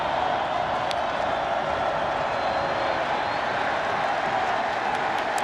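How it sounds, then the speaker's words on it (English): A Florida State Seminoles home football stadium crowd roars in a steady, dense, loud wash of cheering that holds without a break. "The crowd really for the first time today getting into it."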